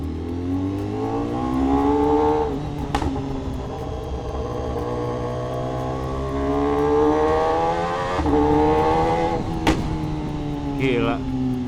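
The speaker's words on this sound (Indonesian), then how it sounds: "suaranya S1K itu bener-bener kayak nggak bisa disamain sama suara motor lain" A BMW S1000RR sportbike with an aftermarket exhaust runs close by, its engine note climbing and falling through several revs, with sharp throttle blips near the end.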